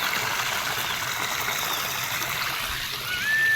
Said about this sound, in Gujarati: નદી.